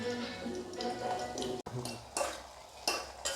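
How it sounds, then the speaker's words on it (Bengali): Onions and tomatoes frying in a pan on an outdoor trip stove, with a steady sizzle, stirring scrapes and the clink of utensils against the pan throughout. "পেঁয়াজ আর টমেটো প্রায় ফ্রাই হয়ে গেছে"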